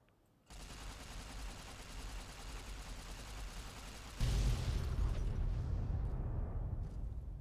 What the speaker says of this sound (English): I've only detonated half of the warheads